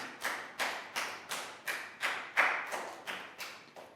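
A small class of Year 4 pupils gives a round of applause in a lesson, with about ten separate, evenly spaced clap bursts in a steady rhythm, moderately loud and close, with no talking.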